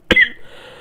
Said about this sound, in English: God, what am I coughing from?